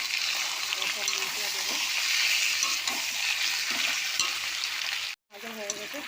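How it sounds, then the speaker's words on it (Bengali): Steady, loud sizzling of chicken frying in a pan, with occasional stirring clatter and a brief dropout near the end. "চিকেনটাও দিয়ে দেবো মধ্যে লাল লাল করে ভেজে নিয়েছি চিকেনটা"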